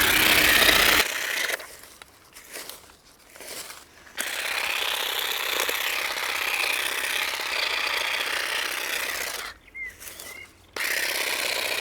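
A Parkside cordless hedge trimmer buzzes in long, harsh bursts, stopping briefly and starting again, close by and fairly loud.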